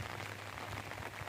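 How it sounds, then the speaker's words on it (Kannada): Steady rain patters continuously on a surface, a dense, even hiss of drops with no voices. "ಸುತ್ತ ಇಲ್ಲಿ ಮಳೆ ಚಟ ಚಟ ಚಟ ಚಟ ಚಟ ಅಂತ ಅನಿತಾ ಐತೆ"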